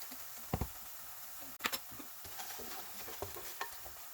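Chopped onions frying in a pan for Ethiopian potato alicha wot, with faint sizzling and a few stirring clatters and scrapes scattered through it.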